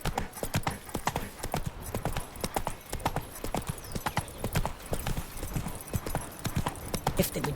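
Galloping hooves of the horse Roach in The Witcher 3 beat in a fast, steady rhythm close up, with a brief snort or whinny and faint voices in the background.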